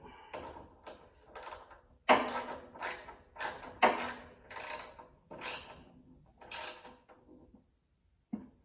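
A ratchet or wrench tightens a part on a snowblower with a series of close, sharp clicking bursts in an uneven rhythm, separated by short pauses.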